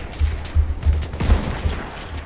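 Repeated gunfire in a video game, several heavy low shots in an uneven burst pattern, fairly loud and close with no talking over them.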